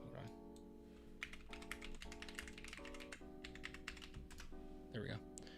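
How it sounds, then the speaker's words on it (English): Typing on an Atrix computer keyboard, a steady run of close clicky keystrokes in uneven bursts, with music playing underneath throughout. "I am typing something in wrong."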